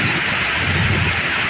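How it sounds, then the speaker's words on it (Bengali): Heavy rain pours down in Malaysia with little wind, making a constant, dense wash of hiss close by with no voices. "দেখুন কত জোরে বৃষ্টি হচ্ছে।"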